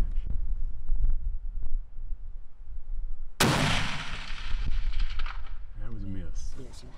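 A single loud rifle shot cracks out, fired at a nilgai antelope on an outdoor hunt, a sharp blast followed by a long rolling echo that fades over several seconds before a voice speaks briefly near the end.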